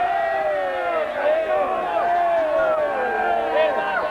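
A big stadium crowd at the 1987 rugby league grand final between the Canberra Raiders and the Manly Sea Eagles keeps up a steady, loud roar of many voices, with shouts and chants rising and falling throughout.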